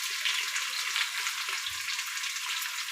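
Onion hitting hot oil in a pan for chicken biryani, a steady close hissing sizzle that carries on evenly, with a faint low thump partway through.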